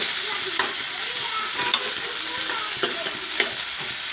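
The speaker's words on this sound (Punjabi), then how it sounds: "ਪਿਆਜ਼ ਤੇ ਹਰੀਆਂ ਮਿਰਚਾਂ ਨੂੰ ਕਰ ਲੈਣਾ ਫਰਾਈ" Onions and green chillies frying in hot oil with cumin, a loud continuous sizzle broken by a few light scrapes of a spoon stirring the pan.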